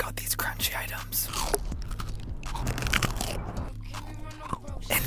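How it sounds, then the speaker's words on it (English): Crunchy snack foods are bitten and chewed close to the mic, giving dense, crisp crackling crunches with whispering mixed in. "I then went to the store and got these crunchy items."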